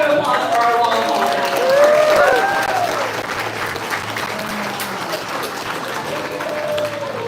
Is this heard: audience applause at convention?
yes